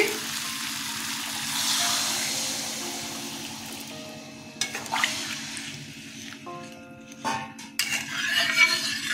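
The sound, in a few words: water poured into frying jackfruit seed curry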